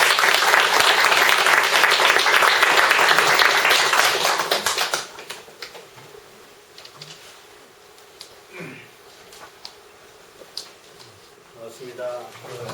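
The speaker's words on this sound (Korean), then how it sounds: "환영의 박수." Welcoming applause from an audience at a Won Buddhist training ceremony: dense, loud clapping for about five seconds that fades abruptly, followed by quieter room noise with scattered taps and faint voices.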